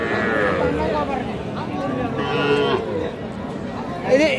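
At a busy cattle market, a young bull calf lets out drawn-out moos against a background of crowd chatter and people talking close by.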